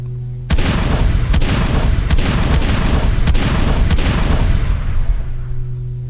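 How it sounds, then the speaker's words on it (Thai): A loud volley of gunshots, about six sharp blasts at irregular intervals, each ringing out and echoing over a constant background din. "เสียงปืน ก็ดังสะท้านขึ้นจากปืนทุกกระบอก"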